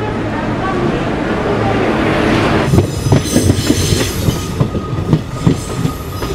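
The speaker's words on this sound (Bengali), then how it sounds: "ট্রেন ঢুকছে ভুবনেশ্বর স্টেশনে, বিশাখাপত্তনম ইন্টারসিটি এক্সপ্রেস।" Visakhapatnam Intercity Express train pulling into Bhubaneswar station, a steady rumble building into rhythmic clickety-clack of wheels over rail joints with occasional squeals, loud and close amid station bustle.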